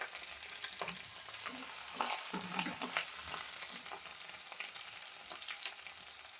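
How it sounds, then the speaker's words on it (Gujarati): Garlic, ginger and green chili paste, crushed in a mortar, frying in hot oil in a pan for a Gujarati fenugreek curry: a steady close sizzle with soft crackles and occasional stirring scrapes, and no talking. "હવે આપણે આદુ અને મરચાં અને લસણની પેસ્ટ તૈયાર કરી છે એને ખોરણીમાં આપણે ક્રશ કરીને લીધી છે. એને આપણે એડ કરી દઈશું."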